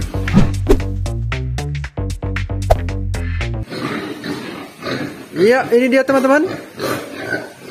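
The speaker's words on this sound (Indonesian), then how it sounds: "Kondisi babi di kandang baterai per sore ini ya." Pigs in a battery pen on a pig farm in Bali: squeals and grunts rise in the second half, first under a burst of music and then with someone talking.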